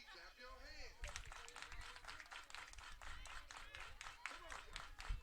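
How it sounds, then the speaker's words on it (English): Spectators at a college softball game clap together in a steady run of claps, with crowd noise and voices running throughout at a distance. "Everybody clap your hands."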